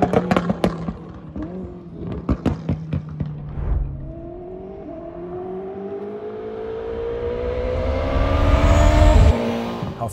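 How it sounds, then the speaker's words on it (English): Koenigsegg Jesko engine revving hard through rapid gear shifts, a rising whine cut by sharp shift blips, then a long climbing rev that builds loud before dropping off abruptly, close and prominent. "Some of you have heard the shifts of the Jesko and the revs of the Jesko."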